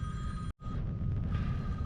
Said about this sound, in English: My alarm is going off outside, in a phone,